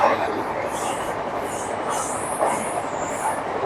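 Another train rumbles past while riding a train near Agra, giving a continuous roar of wheels on rails with faint high squeals above, steady and fairly close.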